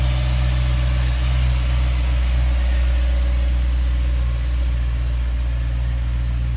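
A cold 2009 BMW M3 Coupe engine idles with a steady, quiet, low hum and no changes in pitch, heard close and continuously throughout.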